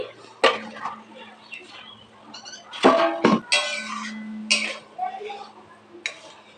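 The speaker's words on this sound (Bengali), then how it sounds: "একটু ঢেকে দিচ্ছি তো দেখো ঢাকনাটা সরিয়ে নিচ্ছি" A metal lid clanks and clinks against a cooking pot of dal with small fried fish, several sharp close knocks and scrapes spread out over the clip, with a person talking between them.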